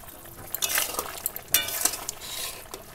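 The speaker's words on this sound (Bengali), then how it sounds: "একটু নেড়ে দিই" Pumpkin curry stirred in a pan with a spoon, giving soft scraping strokes and light clinks over a faint simmering sizzle, close and moderately quiet, with no one talking.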